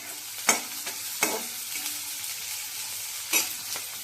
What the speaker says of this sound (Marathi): त्याच्यावर ओली मिरची आणि कांदा घालणार आहोत.